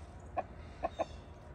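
A newly arrived rooster and hens in their separate runs give three short clucks, the last two close together, fairly faint against a quiet background.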